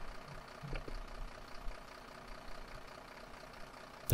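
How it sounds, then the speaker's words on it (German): A vehicle engine idles in the firefighting game Emergency 4 as a low, steady, faint rumble with a slight uneven knock, running alone for about four seconds. "Wieso läuft der Motor denn schon?"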